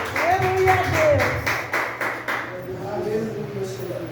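A church congregation claps in quick, even rhythm for a couple of seconds during a Tuesday evening service. A voice speaks loudly over the clapping, which then fades.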